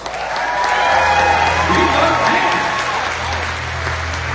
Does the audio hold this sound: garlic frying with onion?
no